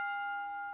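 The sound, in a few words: bell ringing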